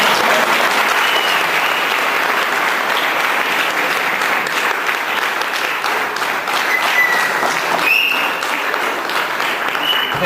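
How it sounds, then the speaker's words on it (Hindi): Sustained applause fills a hall, a thick, even wash of many hands clapping at close range for about ten seconds, with a few voices faintly underneath. "मेरे लिए कोई ताली नहीं होती।"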